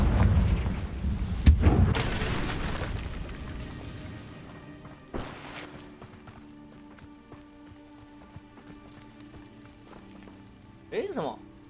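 Confringo blasting spell explosion in Hogwarts Legacy, heard as a sharp heavy boom followed by fading rumble, with a couple of smaller thuds later and a brief voice near the end.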